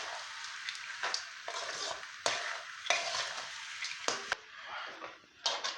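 Sago upma is stirred in a pan so it doesn't stick, giving a soft sizzle broken by repeated scraping strokes roughly every second, fairly quiet and steady.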